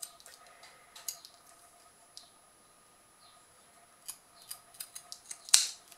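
Scissors snip through fabric close to the seams of a sewn coin purse, with a few quiet, scattered cuts early on and a cluster of sharper snips near the end, one crisp and loud.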